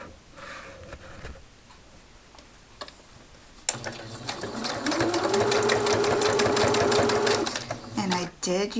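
A sewing machine stitches down the top of a zippered project, starting after a few soft handling clicks and then running loud and steady for several seconds with a rapid rhythmic chatter before slowing and stopping.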